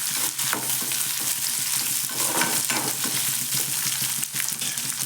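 Onions fry hard in a hot pan, a dense, loud crackling sizzle that runs without a break, broken only by brief scrapes of a spatula stirring them, heard close with no talking.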